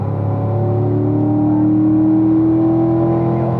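A car engine held at full throttle on a track heading toward turn four drones as a steady, loud tonal whine that climbs slightly in pitch, with no talking.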